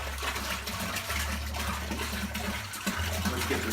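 Water pours steadily into a home-brewing pot for beer, with a continuous splashing rush and gurgle that holds throughout at moderate loudness.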